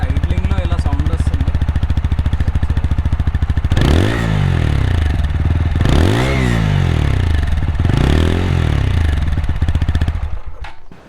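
A TVS Apache 160 4V motorcycle exhaust runs with a steady low idle pulse, then gives several loud throttle blips that rise and fall. The bike is close and loud throughout, with no talking.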